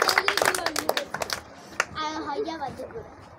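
Hands clap in a village classroom in a quick, uneven burst lasting about a second and a half, then a voice speaks over the quiet room.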